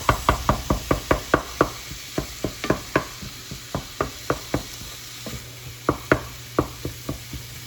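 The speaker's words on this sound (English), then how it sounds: "I'm gonna chop it into small little bits." Knife chopping through browned ground pork in a home kitchen, a steady run of sharp, close knocks on a board, fairly loud and regular with a brief pause midway, and no one speaking.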